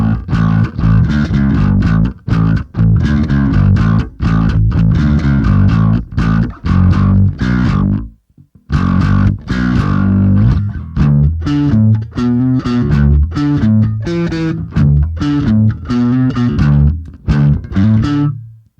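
Electric bass played through a Boss GT-1B multi-effects unit with distortion, loud buzzy plucked notes in a steady riff, briefly stopping midway before continuing, no talking.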